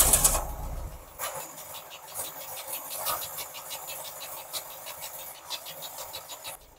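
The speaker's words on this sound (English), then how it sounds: "I'm going to turn on the ignition and see how it fires up" A 1971 VW Super Beetle engine is started with the ignition, giving a rapid, rattling rhythmic chatter up close as it cranks and catches, with no talking.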